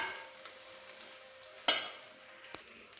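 Egg fried rice made with basmati rice is stirred and mixed in a pan, quiet scraping and faint sizzling with one sharp clack of the utensil and a softer knock later, no talking.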